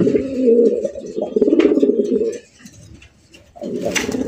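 Domestic pigeons coo close by in a loud, throaty, repeated run that pauses briefly before resuming, with a few faint chirps mixed in.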